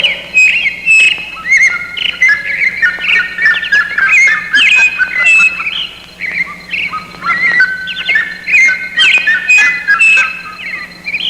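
Several small birds singing and calling loudly together, a dense, continuous mix of bright chirps, whistles and squawks with no pauses, close and clear over a low steady hum.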